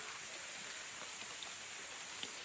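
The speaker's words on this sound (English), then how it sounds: "It is raining" Rain falls on the thick vegetation and canopy of Corcovado rainforest in Costa Rica, a faint, continuous hiss with scattered soft drops.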